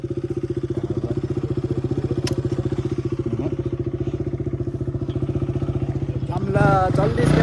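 A motorcycle engine idles close by with a rapid, even putter throughout, growing rougher and louder near the end as it is revved.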